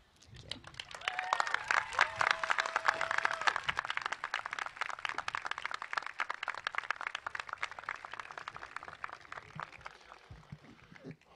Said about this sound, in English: One more round of applause for both of our speakers because they were incredible.